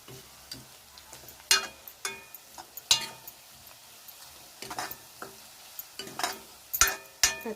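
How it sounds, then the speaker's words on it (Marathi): Whole spices fry with browned onion in a pan for egg curry, a soft constant sizzle broken by sharp scraping stirs at irregular intervals, close and fairly quiet with no talking. "आता अख्खा मसाला पण व्यवस्थित भाजून घेऊया।"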